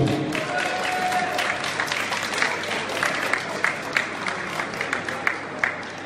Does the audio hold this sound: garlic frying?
no